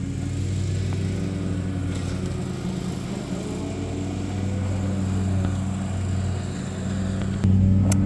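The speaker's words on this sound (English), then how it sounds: "I would read it out loud, but the mower is making it difficult" A lawn mower runs outdoors as a steady, moderately loud engine drone with a low rumbling hum that continues without a break throughout.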